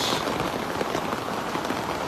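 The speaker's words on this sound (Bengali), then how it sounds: "অনেক বৃষ্টি হচ্ছে অনেক যেটা দুবাইয়ের বুকে ইতিহাস" Heavy rain falls in Dubai, a loud, unbroken wash of drops striking surfaces, steady and close throughout.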